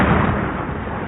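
A loud explosion sound effect bursts out as a dense, rumbling roar that fills the moment and holds steady before it cuts off abruptly.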